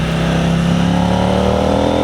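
A 2026 KTM 990 RC R motorcycle with a homemade exhaust delete revs at about 30% throttle, producing a loud, steady, guttural engine roar that holds close and constant throughout, with no voices.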